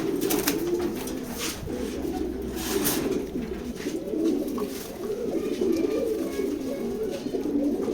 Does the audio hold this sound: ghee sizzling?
no